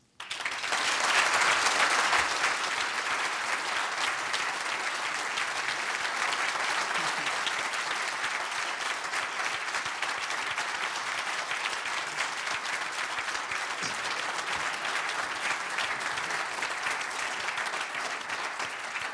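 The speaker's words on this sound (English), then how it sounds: "I think they deserve another round of applause for all their efforts tonight" Sustained applause from a conference audience after a youth board presentation at a retail conference, steady and dense throughout with no voices over it.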